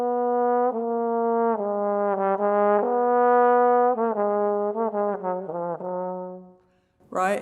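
Tenor trombone playing an etude passage choppily, notes sharply separated by breaks as the slide moves without alternate positions, close and solo; a brief voice enters at the very end.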